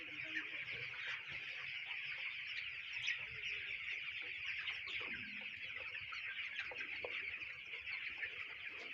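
A flock of sick farm chickens clucks and chirps softly at close range, a faint continuous murmur of overlapping calls with no one speaking.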